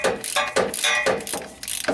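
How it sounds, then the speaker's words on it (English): A long wrench works a bolt on the rear control arm of a Suzuki Sidekick or Geo Tracker, giving a loud, close run of ratcheting clicks in rapid bursts. "I have a long wrench on here"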